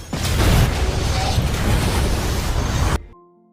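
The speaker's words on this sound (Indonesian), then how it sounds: "Arthur lalu dengan segera menyelamatkan diri sebelum kapal itu meledak" A ship explodes in a film scene: a dense, roaring blast fills about three seconds at steady loudness, then cuts off abruptly, leaving a faint tonal tail.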